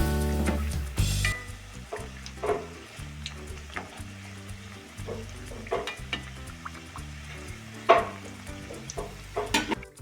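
Badam puri made from wheat dough fries in oil in a pan over low flame, giving soft intermittent bubbling and a few sharper pops and clinks, while music plays quietly underneath.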